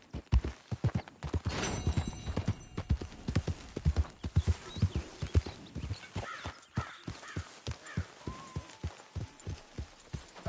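Horse hooves clop in a steady rhythmic gait on the ground in Red Dead Redemption 2, close and distinct, with a brief neigh partway through and faint background sounds.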